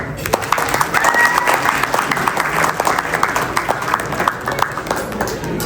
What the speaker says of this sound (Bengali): ওনার জন্য এবং ফাদার মিন্টুর জন্য একটু জোরে হাততালি হয়ে যাক।